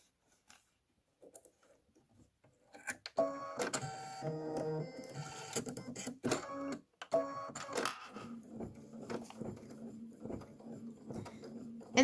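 An embroidery machine stitches a black brick satin outline and detail stitch on a bench pillow, with rapid mechanical needle chatter in bursts after a quiet start and between pauses.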